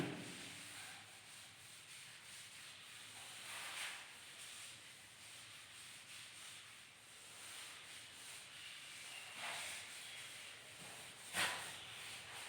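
Writing is rubbed out on a board with repeated soft, dry scrubbing strokes in an irregular rhythm. The sound stays faint and close, with one brief louder scrape near the end.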